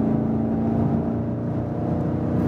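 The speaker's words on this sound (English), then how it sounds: "Sport mode means we hear more from the exhaust." Deep engine exhaust of an executive sedan in sport mode drones steadily with a throaty, humming rumble while the car cruises at speed, no voices present.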